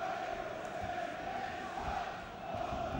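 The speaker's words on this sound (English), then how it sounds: "Some real lusty Welsh singing ringing around the LG Arena here in Birmingham." A boxing crowd at the LG Arena in Birmingham sings Welsh songs in unison during the Maccarinelli vs Frenkel fight, a loud, sustained massed chant filling the hall with steady, continuous volume.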